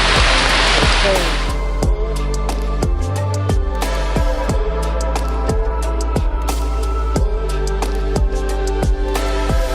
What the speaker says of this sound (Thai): นั่งชิวๆไปครับรอฝนหยุดแล้วเดี๋ยวค่อยกางเต็นท์